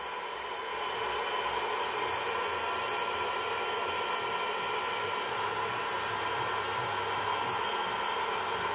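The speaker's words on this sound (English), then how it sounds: "Go behind it with my blow dryer." A handheld blow dryer runs steadily while drying hair, a loud, continuous whooshing roar of air and motor that holds at an even level throughout with no talking.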